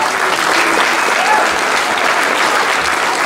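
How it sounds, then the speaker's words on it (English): A banquet crowd at a high school athletics event gives the JV cheerleaders a round of applause: dense, steady clapping from many hands, loud and sustained throughout. "Let's give the JV cheerleaders a round of applause"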